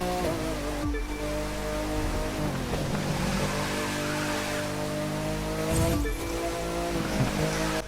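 A Porsche Carrera 4S 992 engine in the racing game The Crew 2 holds a steady, loud, droning note throughout, with no voices over it.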